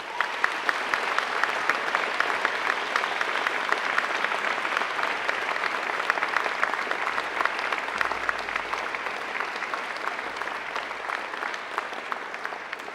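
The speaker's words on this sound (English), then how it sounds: "And now I invite you to give them a mighty round of applause." A large crowd of graduates at a graduation ceremony applauds their families and friends in one sustained, dense round of clapping that stays loud and even throughout.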